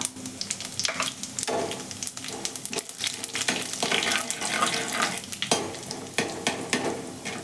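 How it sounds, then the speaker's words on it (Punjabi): Cumin seeds crackle and sizzle in hot oil in a pan for curry, a dense steady frying hiss with scattered pops and some stirring scrapes, close and fairly loud with no talk. "ਲੋ ਜੀ ਜੀਰਾ ਤਿੜਕ ਗਿਆ ਹੈ"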